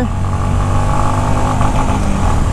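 A Honda CB 350 motorcycle's engine revs loudly and close, a deep throbbing exhaust note rising and holding steady across the short stretch, with no talking.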